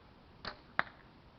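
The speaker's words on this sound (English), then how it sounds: "That arrow sounded funny." Arrows are shot during backyard archery: two quick, faint, swishing thuds about a third of a second apart, the second sharper and crisper, set against quiet outdoor background.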